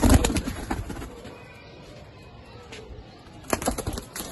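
Pigeons kept for traditional pigeon flying at a Lahore bird market coo softly amid a steady background hum, with louder bursts near the start and end.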